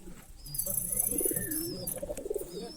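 Soft, low coos from a Girebaz pigeon repeat in a gentle rolling rhythm, close by, with a few thin higher chirps from other birds in the background.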